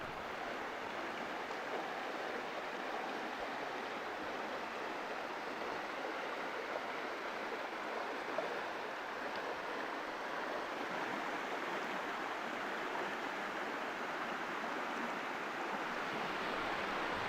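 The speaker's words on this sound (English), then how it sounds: "we had to stop and come check out this waterfall" A waterfall beside a river on a hiking trail roars in a steady, broadband rush that holds constant and fairly close, with no voices.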